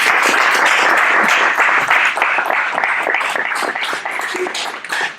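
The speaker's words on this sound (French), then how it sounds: "je vous demande, en tout cas, avant qu'il ne parte, de l'applaudir très, très, très fort" An audience at a conference debate applauds a speaker, with loud, dense clapping close by that slowly eases off toward the end.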